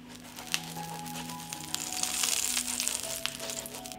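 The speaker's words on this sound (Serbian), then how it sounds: "na isti način ispečemo tortilju." Tortilla frying in a greased skillet, a steady close sizzle that swells slightly midway, with a few soft scraping clicks over a faint low hum.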